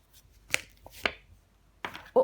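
A few distinct taps and soft slaps as tarot cards are laid down on a table during a reading, about four separate sharp contacts with quiet gaps in between.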